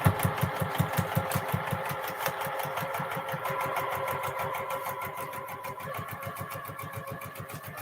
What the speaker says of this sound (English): I'm sewing between line 3 and 4 now.